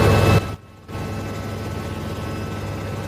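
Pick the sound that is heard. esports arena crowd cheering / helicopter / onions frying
helicopter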